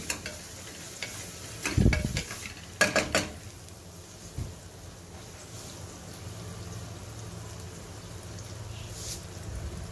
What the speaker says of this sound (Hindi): वो हल्का गुलाबी होने तक हम प्याज को फ्राई करेंगे।